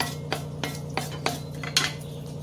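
A spoon scrapes dry-roasted sorghum semolina, made without ghee or oil, out of a kadhai. There are about five soft, evenly spaced metallic scrapes and clinks, heard close and quiet.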